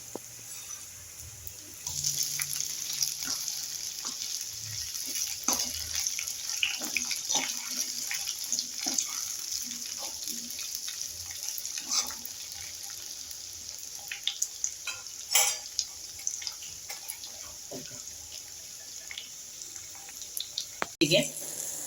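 Gobi manchurian cauliflower pieces frying in hot oil for gobi fried rice, a steady bubbling sizzle running throughout with small crackles and occasional utensil clinks, fairly close and alone without talk.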